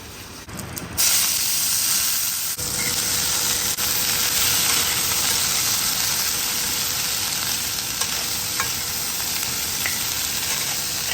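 A spice paste frying in a pan, a bright hissing sizzle that bursts in after a quiet opening second and holds steady and close, with faint occasional stirring ticks.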